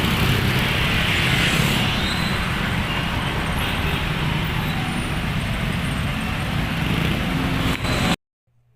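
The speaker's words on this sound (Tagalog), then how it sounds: "Walang katapusan tong Las Piñas sa traffic eh." Road traffic in Las Piñas: a continuous dense rumble of cars, buses and trucks passing nearby, steady and loud, cutting off abruptly near the end.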